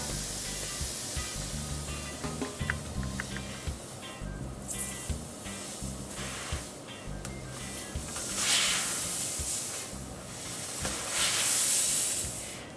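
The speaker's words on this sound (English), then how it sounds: "You can hear the air expelling." Air hisses out of a basketball in steady breathy bursts, swelling loudest near the end over a low, rumbling background, with no talking.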